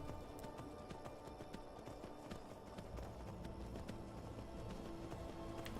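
A horse gallops in the video game Skyrim, its hooves clip-clopping in a fast, continuous rhythm over a dense, steady bed of game sound.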